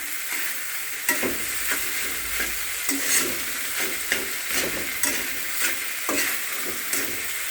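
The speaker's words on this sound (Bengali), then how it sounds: "এবার আমরা পাস্তা দিয়ে দিব এবং এই পাস্তাটাকে একটু নাড়ানাড়ি করতে হবে" Pasta stirred with fried onions in a pan gives a sizzling fry bed broken by regular scraping and knocking strokes of the spoon, about one per second, close and fairly loud.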